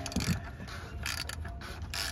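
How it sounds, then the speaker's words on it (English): Ratchet and 27 mm socket tightening the oil filter housing on a 2022 Kia Telluride during an oil change; steady close mechanical clicking and grinding across the whole moment, with no talk. "tighten it with the ratchet and 27 socket."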